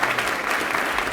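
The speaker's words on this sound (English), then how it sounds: "Can we give both these gentlemen a huge round of applause?" An audience claps steadily in a hall after an Oxford debate on science and God, a dense, loud round of applause that holds evenly throughout with no voices over it.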